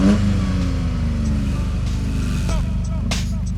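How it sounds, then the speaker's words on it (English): A Toyota GR Corolla idles and revs through its triple exhaust, a steady, fairly loud engine note with harmonics that rise and fall, heard up close with no one talking. "And check out the triple exhaust, not the most aggressive sounding,"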